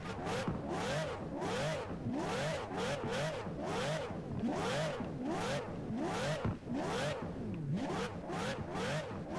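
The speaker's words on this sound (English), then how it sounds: "rev the engine a couple times and let you guys hear it" A Ferrari 599 Formula Drift car's engine is revved repeatedly in sharp rhythmic bursts, each blip rising and falling quickly, loud and close with no talking.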